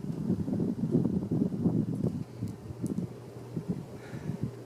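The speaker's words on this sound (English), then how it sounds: "So let's turn on high reverse. And now all the wind noise is going to be up here." A 52-inch Hampton Bay Cameron II Plus ceiling fan spins on high in reverse, giving a steady, close, low whooshing rumble of moving air with a soft, uneven flutter and no voices.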